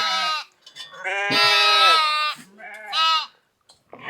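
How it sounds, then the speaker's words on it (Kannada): A lamb among freshly shorn sheep bleats for its mother: three loud, close, wavering cries with short pauses between them. "ಕುರಿ ಮರಿ ಏನೈತಲ್ಲ ತನ್ನ ತಾಯಿ ಬರತ್ತಿನ ಹೆಂಗ್ ಮಾಡತ್ ಮಾಡ್ತೈತೆ"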